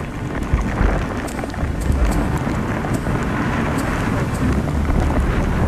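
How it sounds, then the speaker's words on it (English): Bone-chilling wind blows near Orda Cave at twenty degrees below freezing, a steady roaring gust buffeting the microphone with faint scattered ticks and thumps underneath. "the bone-chilling wind makes it feel colder"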